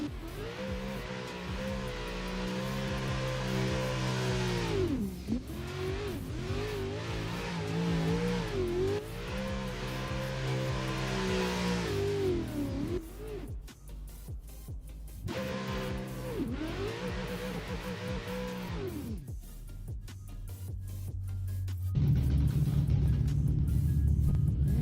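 Drift car engine revving hard on a competition track during a qualifying run, loud and close with rising and falling pitch sweeps as it swings back and forth, briefly dropping off before roaring again; no talking.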